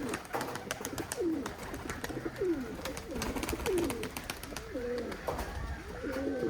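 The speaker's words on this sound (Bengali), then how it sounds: "সাদাটা হচ্ছে তুলা কবুতর ফ্রেশ সাদা" Pigeons, including a white cotton-type bird kept for high flying, coo in repeated low throaty calls throughout, close by, over a steady outdoor hiss.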